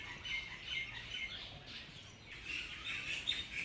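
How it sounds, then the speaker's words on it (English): Many birds chirping and tweeting around the ruins of an old sugar mill in Mauritius, a faint, continuous outdoor chorus of overlapping calls with no voices. "Listen to all those birds."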